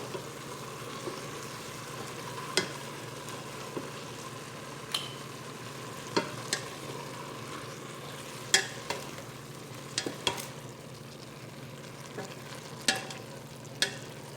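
Sotanghon chicken guisado being stirred in a pan, a soft steady sizzle under scattered light clicks and scrapes of a utensil against the pan.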